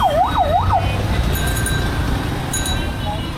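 An ambulance siren in a nighttime traffic jam in Khulna city, heard from a rickshaw. Its wail rises and falls a few times at the start, then gives way to a steady rumble of traffic.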